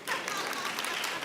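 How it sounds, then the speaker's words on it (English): Brief burst of audience applause following a talk by a guest speaker, a dense steady patter of clapping from a moderate-sized crowd lasting just over a second. "I don't need the applause."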